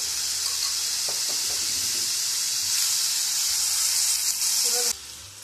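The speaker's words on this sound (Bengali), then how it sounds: "এর মধ্যে এবার আমি দিয়ে দিচ্ছি ফেটিয়ে রাখা টক দই" Whisked sour yogurt going into a hot pan for a Bengali fish curry gives a steady, loud hiss and sizzle that drops quieter near the end.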